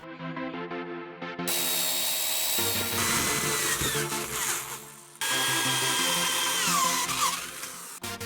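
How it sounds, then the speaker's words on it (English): A power drill whines through an aluminum bar, starting with a low hum and then a loud, steady grinding screech that cuts briefly and resumes. "Now I'm going to drill a couple of holes in each piece of metal."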